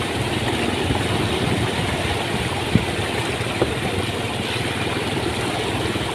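Walking tractor engine idling steadily nearby, a constant low rumbling chug with a couple of faint clicks and no talk.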